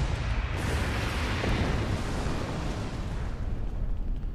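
A big explosion in the space video game Star Trek Online: a dense, loud, sustained rumbling blast with roaring noise that fades slowly over about four seconds.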